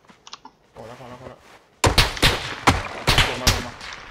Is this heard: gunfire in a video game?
yes